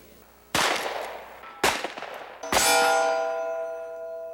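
Three loud, sharp gunshots ring out about a second apart at a rod and gun club outdoors, each a hard crack followed by a short ringing decay, the last one trailing a longer metallic echo.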